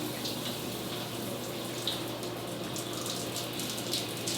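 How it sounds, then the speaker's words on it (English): Cold water runs steadily from a shower, a close, even rushing hiss with slight splashy fluctuations throughout and no voices. "I haven't done a cold shower in a minute, but it's definitely different because we'll have the water on the head."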